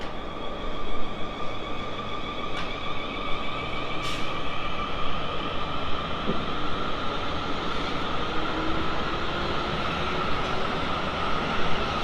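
A train rushes through Farnborough Main station on the South Western Main Line, a steady loud roar of wheels and rail noise lasting throughout, with a faint high whine and occasional clicks, no talk.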